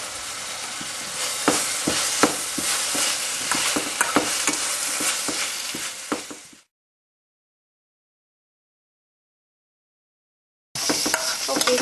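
Sliced onions fry and sizzle with turmeric in a pan for seeni sambol, stirred with a steady scrape and clatter. The sound runs loud for about six seconds, cuts to silence, then the sizzling resumes near the end.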